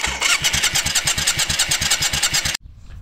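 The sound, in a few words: motorcycle engine cranking and starting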